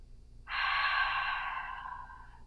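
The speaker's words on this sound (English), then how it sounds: "Breathing in through the nose and out through the mouth." Slow, deep breath taken during a post-workout stretch, one long airy exhale with a soft start that fades gradually, close and clear against a quiet room with no talking.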